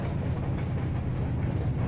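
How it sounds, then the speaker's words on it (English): A train rolls past in American Truck Simulator, a steady low rumble with faint clickety-clack of rail wagons, continuous and fairly close throughout, no voices. "Choo-choo train."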